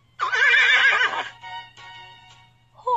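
A single loud, close horse whinny rises and quavers for about a second, then trails into fainter breathy snorts, with a quiet hum underneath.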